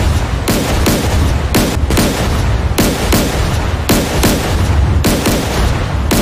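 Shells from a frigate's guns land in DCS World as a rapid barrage of loud, booming impacts, each following closely on the last in an uneven, continuous volley.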